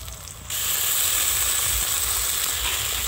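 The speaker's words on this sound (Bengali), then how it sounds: "এখন সবগুলো মশলা পেঁয়াজের সাথে ভালোভাবে কষিয়ে নেব।" Garlic paste, ginger paste and ground dried chilli and cumin fry with onions in a pan, a soft sizzle that jumps louder after a moment and then holds steady, with no voices.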